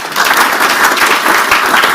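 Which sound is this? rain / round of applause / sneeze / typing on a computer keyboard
round of applause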